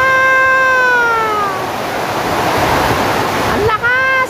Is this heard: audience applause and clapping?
no